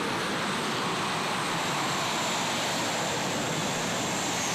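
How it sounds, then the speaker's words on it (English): A turbine-powered tractor roars steadily at a Super Modified tractor pull, a loud, continuous whooshing whine that holds without a break. "This is the turbine tractor."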